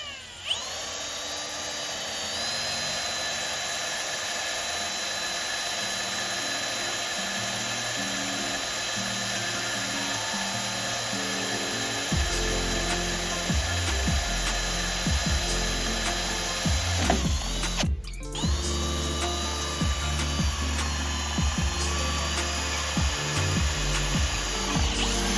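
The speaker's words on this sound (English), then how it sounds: "mark on the plate where to drill. Drill 3 holes on each side." A power drill bores holes into a steel bumper plate on a 4th gen tow truck, giving a loud, steady whine that runs almost continuously with one brief break near the end.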